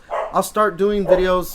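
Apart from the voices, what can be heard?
dog barking in the background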